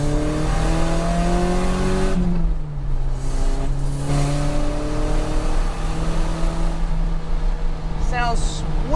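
A Porsche 944 Turbo engine drones steadily from inside the car while driving, its pitch climbing through gears with shifts and a brief dip, loud and close throughout.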